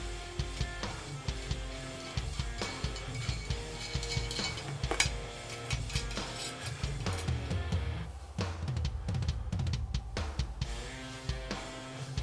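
A Rototom nut threaded onto a lock nut on a bass drum rod, a continuous close run of small metallic ratcheting and grinding clicks with no talking over it.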